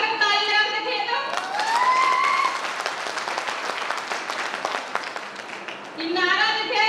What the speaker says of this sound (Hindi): जगह जगह ताली लगा के देखिए तो।